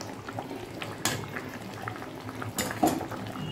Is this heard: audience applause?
no